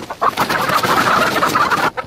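Nomad chickens cluck close by in quick, overlapping bursts, a busy, continuous farmyard chatter with no one speaking.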